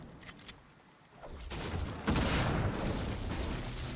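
Clinger sticky grenades going off in Fortnite, a few faint ticks followed by a loud rumbling explosive burst that holds and crackles for a couple of seconds.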